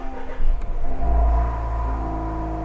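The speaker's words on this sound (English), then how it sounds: "And if I start the engine quickly" Land Rover Defender engine cranks briefly, fires and settles into a steady low idle rumble, close up and alone without talk.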